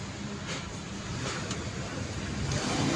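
A car engine being washed, with a steady broadband rush of spraying water, loud and continuous at close range and building slightly toward the end, with no voices.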